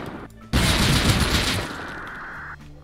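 Loud burst of AK rifle fire in the survival game Rust during a raid on a clan base, a dense sustained volley that starts abruptly and rattles on for about two seconds before cutting off.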